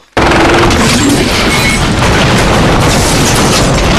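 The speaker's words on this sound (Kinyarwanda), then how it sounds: "rocket launcher" Loud, sustained roaring blast from a rocket launcher explosion in an action movie, bursting in suddenly after near silence and filling the whole clip with dense, rumbling noise.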